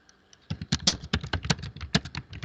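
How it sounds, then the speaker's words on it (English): Rapid typing on a computer keyboard, a close, crisp run of uneven key taps after a short quiet start, with no talking. "Why am I typing?"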